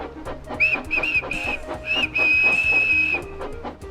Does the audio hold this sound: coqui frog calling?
no